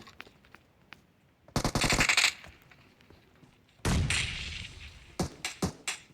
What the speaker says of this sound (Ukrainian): Це якийсь чувак стріляє.